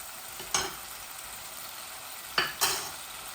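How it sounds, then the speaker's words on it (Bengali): Fish curry with raw tomato being stirred in a frying pan, a steady soft sizzle broken by three brief scraping stirs of the utensil against the pan. "মাছগুলা দিয়া লাড়াচাড়া করে নিয়ে আর একটু ওই যাক"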